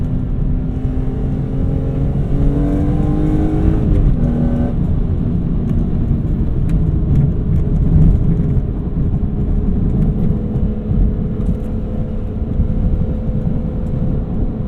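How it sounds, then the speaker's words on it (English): A loud, close BMW E46 M3 S54 engine with an aftermarket intake and SMG gearbox revving continuously, pitch climbing and dropping through several throttle pulls with a steady rumble underneath. "The S54 is such an emotional engine."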